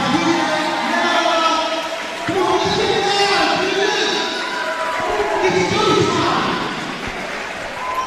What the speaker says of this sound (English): as you can hear, the crowd here is ready and roaring to go